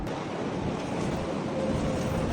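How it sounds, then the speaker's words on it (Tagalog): Strong wind blows outdoors in the Philippines, a loud, steady roar of gusts buffeting the microphone, with a surf-like rushing quality and no voices. "Ang lakas ng hangin dito."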